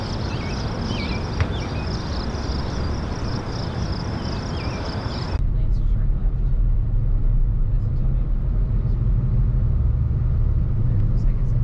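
A car drives through Omaha, Nebraska, its road rumble and engine drone steady and close from inside, with insect chirps audible at first and a voice talking over the drive.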